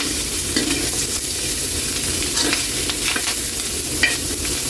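Milkfish frying in its own rendered oil in a pan, a steady close crackling sizzle with scattered spitting pops and occasional utensil scrapes, no talking.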